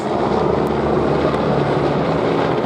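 An LAFD helicopter drones overhead, a loud, steady rotor and engine rumble that stays even throughout the short stretch with no talking.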